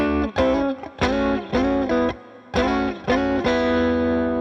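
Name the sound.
guitar sliding between chord shapes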